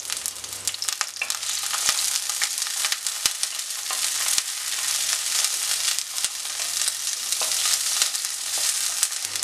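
Onions and green chillies fry steadily in oil in a pan while a Kerala-style king fish curry is prepared; a continuous, fairly loud sizzle runs throughout with a few faint clicks and no talking.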